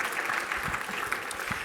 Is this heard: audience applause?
yes